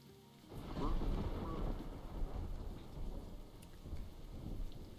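Loud, close thunder strike in the video game Dyscourse, a rumbling crash that swells early and rolls on under steady heavy rain for several seconds.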